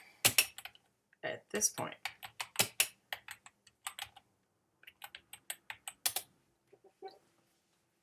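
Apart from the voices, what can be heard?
typing a search into Google Scholar on a keyboard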